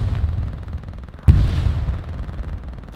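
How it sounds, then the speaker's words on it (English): A single sharp gunshot or blast rings out in the WWII shooter Hell Let Loose, a loud crack with a rumbling tail over a low battlefield din, with no talking. "Someone's shooting at me."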